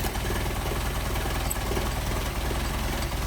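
A Mercedes 190SL engine idles steadily on Solex 44PHH carburetors at a low speed, a continuous deep rumble with a fine rhythmic pulse. It is close and fairly loud throughout, with no talking.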